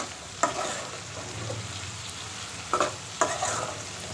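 Okra (bhindi) fries and sizzles in a pan with added spices, a steady close hiss broken by a few sharp scrapes and knocks as it is stirred.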